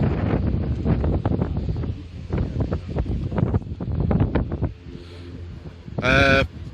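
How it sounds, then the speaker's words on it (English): Gusty wind at an outdoor retro car show at Goodwood, rumbling and buffeting the microphone in uneven surges, with a brief higher tonal sound near the end. "Gosh, it's windy here."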